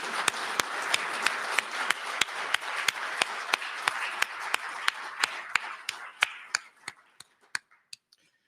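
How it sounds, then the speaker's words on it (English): An audience applauds veterans in a hall, steady clapping with a few loud sharp claps standing out, fading and thinning toward the end until only scattered single claps remain. "And let's give them all a round of applause."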